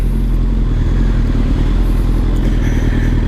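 A Suzuki GSX-R engine-swapped motorcycle accelerates on its first ride, its engine droning loud and steady with a dense rumbling low end and faint clatter throughout.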